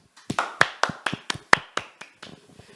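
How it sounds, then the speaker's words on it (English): About a dozen sharp, separate hand claps from a small group or a single person, spaced unevenly and close up, quickly fading into a few softer claps. "Let's clap ourselves!"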